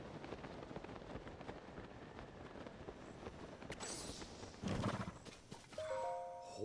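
Horse in Tears of the Kingdom, clopping hooves under a busy game soundscape, followed by a loud whinny and chiming tones near the end.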